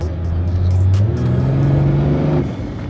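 A Toyota Land Cruiser Prado with a swapped-in BMW engine revs hard off-road, a loud, close, steady roar that rises in pitch and then drops away near the end.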